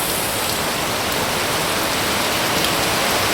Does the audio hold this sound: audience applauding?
no